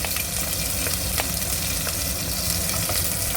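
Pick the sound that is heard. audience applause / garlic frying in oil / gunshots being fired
garlic frying in oil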